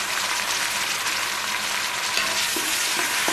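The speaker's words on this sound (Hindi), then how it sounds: "इसमें मैं लहसुन और अदरक का पेस्ट डाल दूंगी और 2 मिनट के लिए भूनूंगी" Onions with garlic and ginger paste fry in hot oil for a spicy aloo gobhi masala, giving a steady, dense sizzle throughout with a few faint stirring clicks near the end and no talk.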